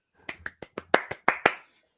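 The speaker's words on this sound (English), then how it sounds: "I guess a round of applause for me." A lone pair of hands clapping about eight times, close and crisp, in an uneven quick rhythm before falling silent.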